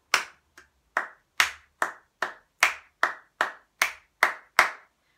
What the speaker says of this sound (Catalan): serà aquest grup el que farà la percussió corporal. També com vulgueu, amb les mans.